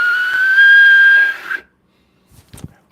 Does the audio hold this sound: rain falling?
no